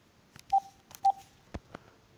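A phone dials an outgoing call during a fix for Android Auto Bluetooth call audio, giving a short series of distinct touch-tone beeps and clicks with quiet gaps between them, close and clean with no talking.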